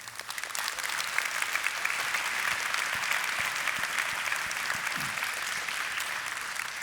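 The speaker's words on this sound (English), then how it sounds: "you have someone clapping very enthusiastically behind you" Sustained applause from a graduation ceremony audience, dense and steady throughout, with one person clapping especially vigorously among the crowd.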